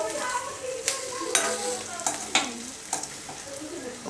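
Kothimbir vadi shallow-frying in a pan gives a constant crackling sizzle, broken by repeated spatula scrapes and taps at irregular intervals, up close with no speech.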